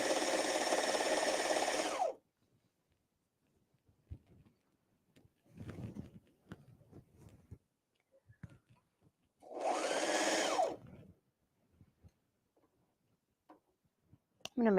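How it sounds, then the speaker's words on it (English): A serger stitching a cardigan runs in two short loud bursts, motor whirring for about two seconds each, separated by quiet handling clicks and faint movement. "So I'm literally going to serge right on top of that"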